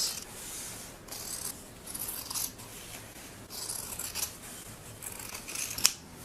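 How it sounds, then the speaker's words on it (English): Scissors snip repeatedly around the sleeve seam of a denim jacket, a series of crisp, close cuts with short pauses between them, quiet and without talk. "you just want to cut on the outside of the seam. So just make a little snip, cut all the way around"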